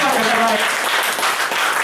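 A gathered audience claps loudly and continuously in a brief, dense burst, with some voices mixed in.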